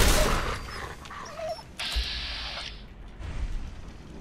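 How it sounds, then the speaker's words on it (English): Dog in a video game gives a few short barks and whimpers amid game ambience and gunfire-like bursts, moderately loud and brief, with no talking. "I hear a dog."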